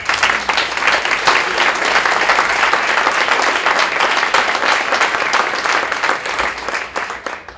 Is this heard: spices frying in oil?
no